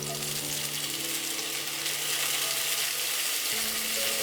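Chopped onions land in hot oil in a pan, giving a steady, dense sizzle that stays close and even throughout, with a faint underlying hum and no voices.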